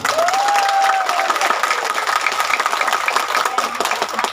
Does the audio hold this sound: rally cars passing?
no